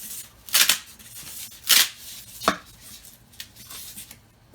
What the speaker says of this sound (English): I found just splitting it open with this screwdriver works just as well.